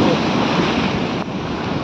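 Storm-driven sea waves surge continuously onto the beach at Bankiput during Cyclone Remal, a loud, dense roar of surf mixed with wind buffeting the microphone, steady throughout with no voices.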